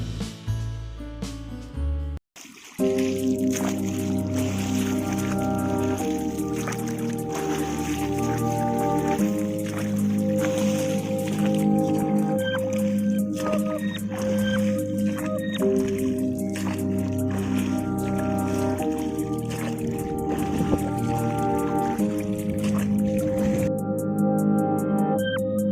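A boat runs steadily along the Karli creek backwater at Tarkarli, its engine giving a continuous low droning hum for the whole stretch, with some irregular watery splashing and knocks over it.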